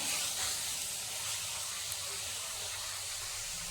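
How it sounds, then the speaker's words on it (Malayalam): Caramel with a cup of milk added bubbles and is stirred over high heat in a pan, a steady close hiss of steam and sizzle running throughout with little variation. "എന്നിട്ട് തീ കൂട്ടി വെച്ച് ഇളക്കി കൊടുക്കാം"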